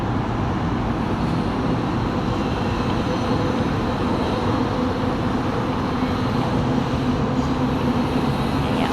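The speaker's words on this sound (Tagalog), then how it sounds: "Ayan, wait natin ang isang train guys, paparating na" A train approaching Jelatek station, heard from a 20th-floor height as a steady, broad rumble and roar of rail traffic that holds evenly throughout, with no voices.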